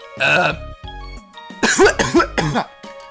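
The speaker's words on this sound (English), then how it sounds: "What kind of a cough was that" A person coughs and clears their throat several times, close and loud, in a short cluster with brief pauses between, against faint background music.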